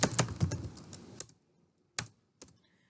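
A computer keyboard being typed on while HTML code is entered, a quick burst of clustered key clicks that thins out into two isolated taps in near silence.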